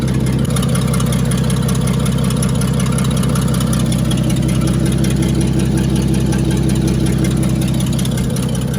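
A 1948 International KB8 truck engine idles continuously with a steady, low, rough rumbling drone and no voices, holding even loudness throughout.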